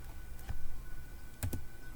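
A computer keyboard gives a few sparse, quiet key clicks, close by, with a couple of quick taps near the end and no talking.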